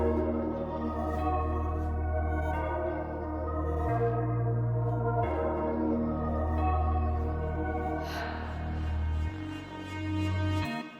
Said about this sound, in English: Then I added this bass with a saturator to sound like this.